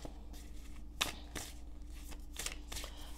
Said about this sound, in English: I'm just going to shuffle the deck while I talk